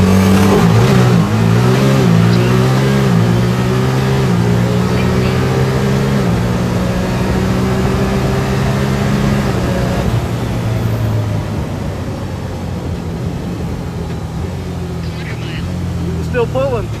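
A 2024 Ford Maverick or a 1990 Pilot accelerating hard, its engine note climbing in steady harmonic sweeps that hold loud and close for most of the run before easing off, with people talking over it.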